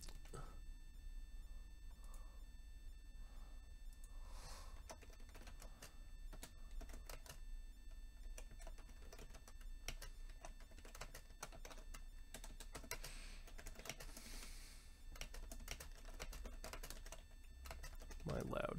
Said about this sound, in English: My loud keyboard. You get to enjoy that.